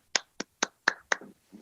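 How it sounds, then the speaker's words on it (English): A handful of separate, crisp hand claps ring out in a slow, even rhythm for the Lord of the Rings hobbit actors, sounding sparse rather than a full crowd roar. "Let's give a round of applause, please"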